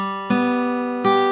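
Two full guitar chords are strummed from the third string to the first, close and ringing, the second strum coming about three-quarters of a second after the first.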